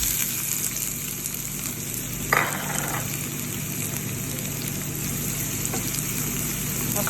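Onion and garlic frying in a hot pan give a steady, close sizzle that runs throughout, with a brief clatter of stirring partway through.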